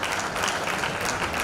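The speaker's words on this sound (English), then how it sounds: "Let's give them a warm round of applause." An audience claps warmly for visiting priests at a special school's silver jubilee celebration, a short, steady, loud patter of many hands.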